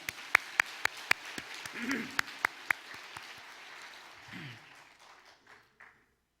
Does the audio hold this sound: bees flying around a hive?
no